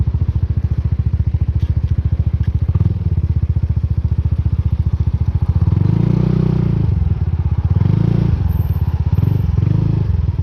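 A Yamaha Nmax 155 maxi scooter with an aftermarket exhaust idles with a deep, bassy exhaust rumble, steady and close, swelling louder with a few throaty revs toward the end.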